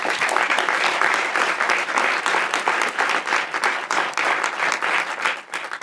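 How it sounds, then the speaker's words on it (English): Sustained applause from a large audience at a commencement ceremony, steady dense clapping that fills the whole stretch at full strength with no talk over it. "One more round of applause."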